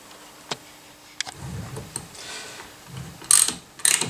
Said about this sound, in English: Just replacing the security nut on the torque sensor.